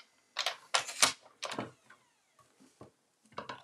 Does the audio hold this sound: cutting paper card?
yes